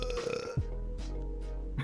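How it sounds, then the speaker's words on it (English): A short, low burp bursts out near the middle, with quiet background talk and a game's sounds around it, in a brief, faint moment. "I just heard you burp"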